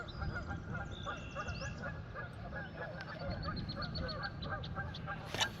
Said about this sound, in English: I upset the geese. They don't like me being in here.